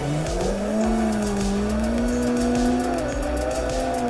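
Tires squeal steadily as a car drifts in the Assetto Corsa racing game, the whine sliding up and down in pitch over a loud, continuous engine drone with no pauses.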